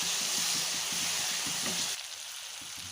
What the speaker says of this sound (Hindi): तो चलिए मसाले को बहुत अच्छी तरह से भून लेते हैं।